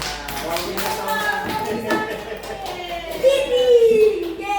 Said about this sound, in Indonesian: tepuk tangan juga untuk Juna